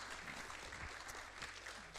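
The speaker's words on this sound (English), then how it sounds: "So a big round of applause, everybody." Audience applause at a school Parent University session, a soft, steady patter of many hands clapping at a moderate distance, continuous through the brief moment.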